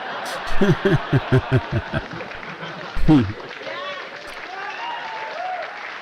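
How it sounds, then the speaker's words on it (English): Studio audience applause breaks out after a stand-up joke. Bursts of clapping start loosely, then a second, louder wave comes through, with scattered chuckles and murmuring mixed in, before fading into quieter crowd noise. "The women clapped at the premise and the men clapped at the punchline"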